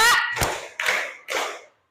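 Schoolchildren in a classroom clap hands in unison in a counted call-and-response routine, four sharp bursts of claps roughly half a second apart, close and fairly loud with no talk over them.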